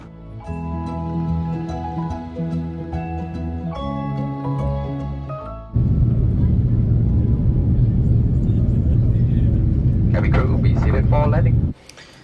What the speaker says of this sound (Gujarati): હવે થોડીક જ ક્ષણોમાં આપણું વિમાન નીચે ધરતી પર ઉતરશે.